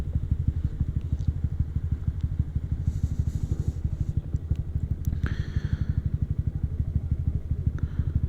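A Honda Grom motorcycle engine idles steadily after warming up, a close, even, rapid putter of exhaust pulses throughout, with a few faint clicks and rattles on top.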